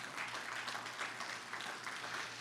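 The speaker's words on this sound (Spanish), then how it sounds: "¿Cuántos pueden aplaudirle al Señor por eso?" Church congregation applauding during a Spanish-language sermon, a steady wash of clapping at moderate distance with a low hum beneath, no voices over it.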